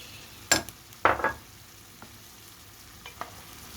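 Broccoli being stirred in a pan for a beef and broccoli stir-fry, heard as a few sharp scraping clatters of a utensil against the pan over a faint background sizzle, with no talking.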